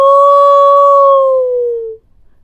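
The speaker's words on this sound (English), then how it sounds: "A wolf howled." Wolf howl sound effect in an audiobook, a single loud, clear sustained howl holding a steady pitch for about two seconds before sliding down and cutting off, heard alone.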